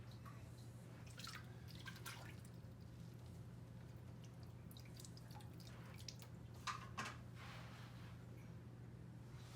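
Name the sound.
water draining and dripping from an aquarium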